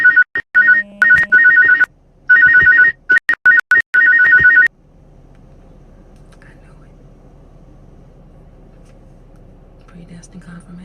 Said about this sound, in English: And my phone started ringing.